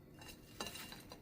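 Homemade In-N-Out style fries tipped onto a plate in a home kitchen, a faint soft scrape and a couple of light clinks, close and quiet with no talk.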